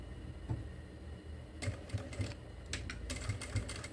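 A sewing machine stitches fabric for a zippered glasses case, quiet at first, then short whirring runs starting and stopping in uneven bursts, close and soft.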